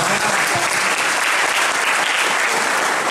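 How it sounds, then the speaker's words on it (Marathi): An audience applauds both teams at a debate event, a dense, steady wash of clapping that stays loud and close throughout with no speech over it. "दोन्ही टीमला जरा जोरदार टाळ्या देऊन"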